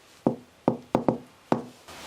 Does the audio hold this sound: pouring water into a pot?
no